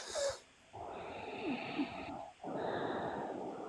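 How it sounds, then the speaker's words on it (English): A person snores in a few rough, wheezy breaths: a short snort, a pause, then two long raspy draws close by, with no talking. "I hear somebody snoring. Who's snoring?"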